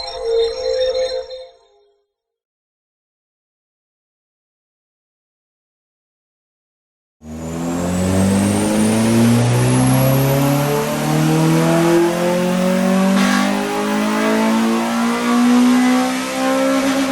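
A Honda Civic EP3 Type R with its K20 engine, in stock form on a dyno, makes a short burst of noise, then about five seconds of silence, then a loud, steady rev climbing through the range for roughly ten seconds.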